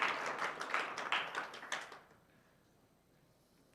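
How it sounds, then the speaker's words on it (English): A round of applause from a small audience after a talk, a dense burst of clapping that thins and stops about halfway through, leaving near silence. "That's a round of applause. Round of applause."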